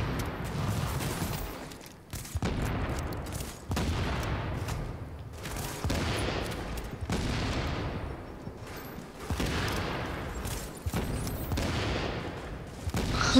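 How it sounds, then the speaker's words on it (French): Gunfire and explosions in the video game The Division: a dense, continuous barrage of shots and booming blasts in repeated surges, loud and close, with no speech. "Ça explose de tous les côtés"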